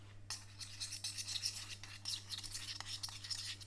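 Oil and burrito seasoning paste being mixed in a bowl, producing soft, quick scraping and rubbing strokes in an uneven rhythm, faint and close against a low steady hum.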